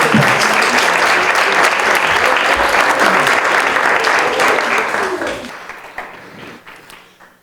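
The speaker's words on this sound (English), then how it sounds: "Would you please give everyone a round of applause?" An audience at an evening lecture event applauds, a dense roar of many hands clapping at full strength for about five seconds before tapering off and fading out.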